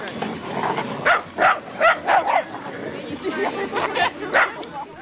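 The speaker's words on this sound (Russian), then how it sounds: "Встречи на свежем воздухе больше всего рады собаки." Several dogs bark in a public park of culture and recreation, a run of sharp barks and yips spread through the middle, heard at moderate distance among people chattering outdoors.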